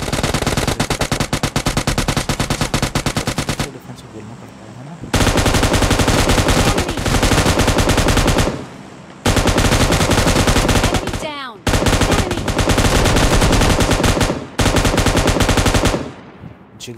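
M249 machine gun in PUBG firing long, loud sustained bursts, several strings of rapid shots separated by brief pauses, with the sharp crack of other gunfire in between.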